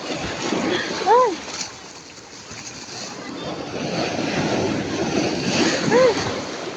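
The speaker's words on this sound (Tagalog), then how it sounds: "Lakas ng alon." Strong ocean surf surges and splashes continuously along a beach where shells are being gathered, with wind buffeting the microphone and voices giving short startled shouts over the waves.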